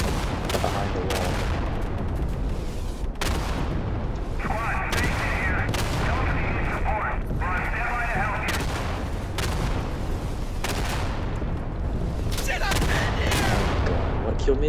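Day of Infamy gameplay brings repeated gunfire, with sharp rifle and automatic shots cracking at intervals and one stretch of rapid sustained fire, loud and close over a constant battlefield rumble.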